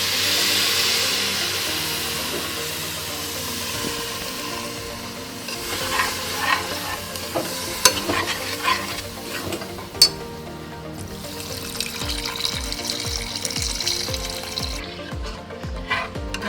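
Tamarind water sizzles in a hot pan while a spoon stirs and scrapes through a stingray fish curry, a steady close crackle with occasional clinks.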